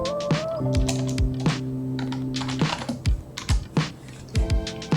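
Fingers tapping a computer keyboard, a quick irregular run of clicky keystrokes in bursts with brief pauses, close and clear.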